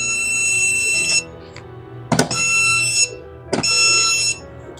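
A voltage pen tester sounds three loud, high electronic beeps, each held about a second with short gaps between them.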